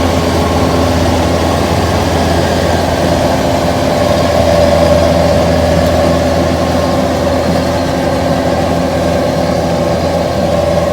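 Kubota DC93G cabin combine harvester engine running steadily at high revs while harvesting, a loud continuous drone with a faint whine rising partway through.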